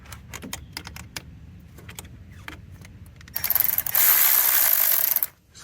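A ratchet loosens an 8mm bolt on a Cutlass engine with a quick series of sharp close clicks, then a longer burst of rapid, dense ratcheting before stopping abruptly.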